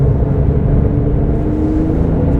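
A 2010 Porsche 997 GT3 RS 3.8 sports car drives on a damp, winding road, its engine a steady low rumble held at moderate throttle, close and continuous with no talk.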